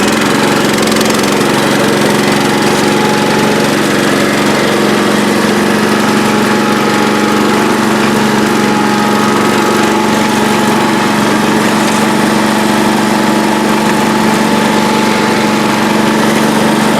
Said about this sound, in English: let's see if the old pulling rig will start